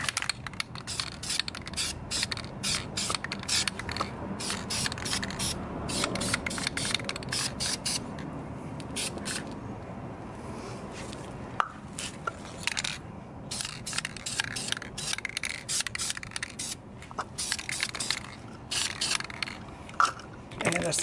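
Spray paint going onto car brake calipers for a second coat on the front, in rapid bursts of spraying and rattling with short pauses, close and fairly loud, with faint talk at moments.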